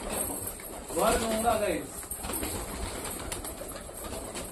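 Pet pigeons coo in a home loft, a soft, low murmur running beneath a person talking close by.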